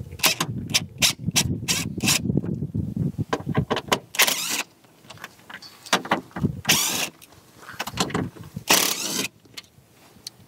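A powered hand tool backs out 10 millimeter bolts from the grille of a Ford F250 in repeated short, loud whirring bursts close by, separated by brief pauses and clicks.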